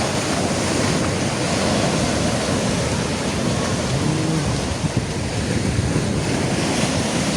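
Continuous roar of ocean waves breaking on Muttom beach, steady and loud with wind buffeting the microphone throughout, no talk.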